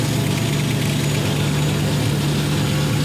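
A steady, loud V8 engine in a Ford Capri idling with a constant low rumble and hissy, breathy noise from an exhaust leak throughout, no voices.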